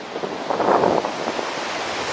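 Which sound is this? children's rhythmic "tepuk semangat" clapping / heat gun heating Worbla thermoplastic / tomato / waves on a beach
waves on a beach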